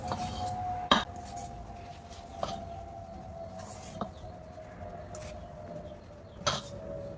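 A whisk lifts out of a bowl of cake batter and taps against the rim a few times, leaving light clinks spaced over a few seconds against a faint steady background tone.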